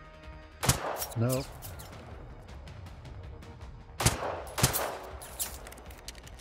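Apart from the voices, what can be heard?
gunfire from the video game Generation Zero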